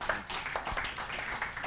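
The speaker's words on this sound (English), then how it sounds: "Let's give him a round of applause." Scattered claps from a small audience at a commercial real estate seminar, greeting a speaker; a handful of separate, fairly close hand claps rather than a full ovation, fairly quiet overall.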